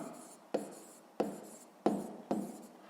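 Pen or pencil strokes on paper while working a sixth-grade maths exercise, four distinct scratchy strokes at an uneven pace, each starting with a sharp touch and trailing off softly, close and quiet.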